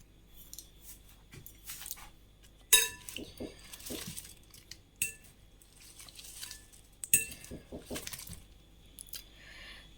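Potato salad is stirred in a bowl, with scattered clinks and scrapes of a utensil against the dish, quiet and intermittent, with a few sharper knocks.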